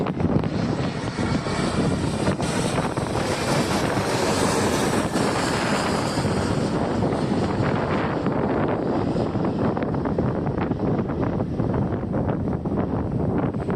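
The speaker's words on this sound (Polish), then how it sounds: "Teraz nam przeleci nad głową samolot." An airplane flies overhead outdoors, its engine a steady, loud broadband roar that fills the whole stretch with some wind buffeting the microphone, and no one speaks.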